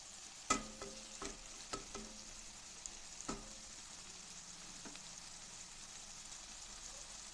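Ginger, garlic and onion sautéing in a pan for veg kurma, a quiet sizzle with several distinct clinks and scrapes of a spoon stirring, the strokes spaced out and fading toward silence.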